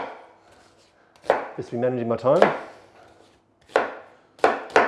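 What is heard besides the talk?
chopping onion with a knife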